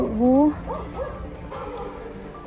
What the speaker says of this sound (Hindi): अरे कुत्ता भौंक दिया